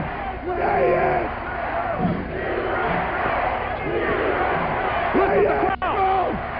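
A pro wrestling arena crowd shouts and roars loudly and continuously at a USA championship match, the chanting rising and falling while an excited commentator talks over it.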